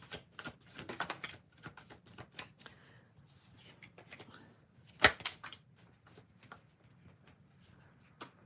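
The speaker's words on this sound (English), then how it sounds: "Give me 1 moment to shuffle, Daniel." A tarot card deck is shuffled by hand, with quiet, irregular riffling and tapping clicks and one sharp knock partway through.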